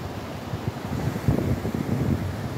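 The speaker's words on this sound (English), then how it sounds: "I mean, look at this creek." A steep mountain creek tumbles over plunges in a canyon, giving a steady, close rush of churning water with low rumbling surges and no voices.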